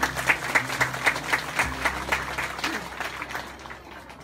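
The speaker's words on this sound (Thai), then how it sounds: "ต้องขอปรบมือท่านผู้อำนวยการโรงเรียนด้วยครับ" Audience applause for a school director at a Thai charity market event, starting with crisp, evenly spaced claps that blur into a denser round of clapping, gradually thinning and fading toward the end.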